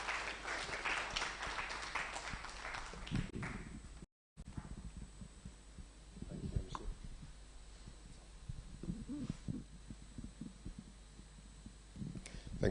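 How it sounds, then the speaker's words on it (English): Audience applause at a university event honouring the Deputy Vice Chancellor of Strathmore University, a dense, fairly faint clatter of clapping in the opening seconds that quickly thins into scattered claps and low room murmur. "A round of applause."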